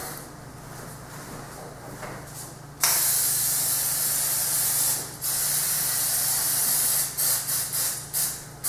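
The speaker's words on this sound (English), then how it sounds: "Then you're going to spray your pan." A loud, steady hiss of cooking oil aerosol spray onto a baking pan, starting partway through and running several seconds, followed by a few short bursts.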